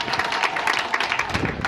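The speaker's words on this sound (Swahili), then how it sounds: "Tupigeni makofi mengi sana." An audience at a May Day workers' sports gathering breaks into applause, a dense, even wash of many hands clapping close by without pause.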